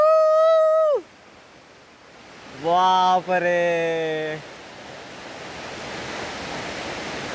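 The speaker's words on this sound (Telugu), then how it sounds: "వాటర్ ఫాల్స్ లొకేషన్ అయితే రీచ్ అయిపోయినాం." A waterfall in Meghalaya with bluish pool water; a steady, moderately faint rushing roar builds in the background after a man's drawn-out exclamation and a short burst of speech.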